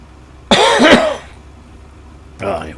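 A hoarse, harsh cough from a person with a lingering cold, loud and close, followed after a pause by a second shorter cough or throat clearing.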